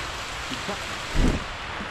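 Steady rain hisses across a surface, with a soft low thump partway through and faint voices in the background.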